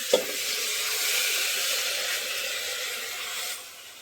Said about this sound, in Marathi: आता हे तांदूळ आपण ह्याच्यामध्ये टाकून देऊया।